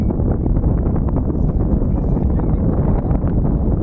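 Wind blows steadily across an open fishing pond, a loud low rumbling buffet against the microphone that persists unbroken throughout, with no voices heard.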